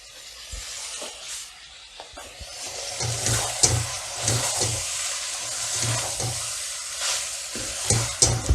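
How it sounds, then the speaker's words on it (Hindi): Deseeded tomatoes going into a pan of frying lamb jalfrezi masala, giving a steady sizzle and hiss with repeated scraping stirs and knocks of a spoon against the pan, close by and fairly quiet. "2 टमाटर लिए हैं दरमियाने, इसके मैंने बीज निकाल कर ये डाल रही हूँ अब मैं"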